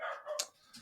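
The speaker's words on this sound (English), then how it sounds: "Sorry, my dogs." A couple of short dog barks or yips sound fairly close, followed by a higher whimpering note, all within under a second and with no talk over them.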